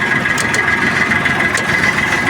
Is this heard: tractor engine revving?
yes